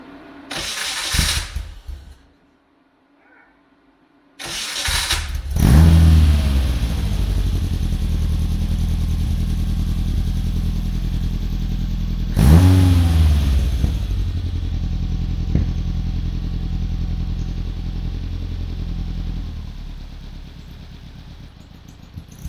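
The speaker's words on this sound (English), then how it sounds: "Fire it up, make sure it starts okay" A Hillman Imp's engine is cranked and fires after a spark plug change, catching with a loud burst before settling into a steady, close idle. It revs up once more partway through and then drops back to a constant running note.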